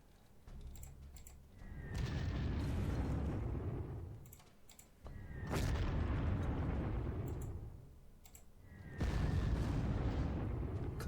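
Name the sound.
bombing explosions in video game Panzer Corps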